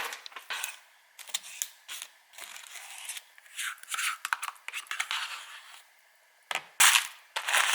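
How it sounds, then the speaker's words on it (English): A knife cuts through fresh strawberries in a series of quick, irregular crisp chops and taps against a board, close and fairly quiet, with short pauses between bursts. "So I'm going to cut up some strawberries, clean those up, cut them up, throw on top."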